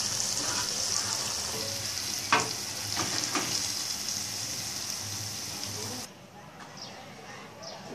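Loitta dried fish frying in a pan and being stirred, a steady close sizzle with a few sharp scraping knocks midway, then the sizzle drops away suddenly near the end as the stove is switched off.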